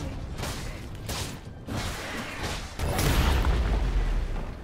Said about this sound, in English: Red team's inhibitor has been destroyed.